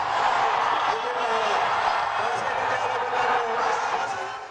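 A large crowd cheers and shouts as the president arrives, escorted by thousands on foot and horseback along Kairaba Avenue to the Independence Stadium, a dense, steady roar of voices heard under a person talking.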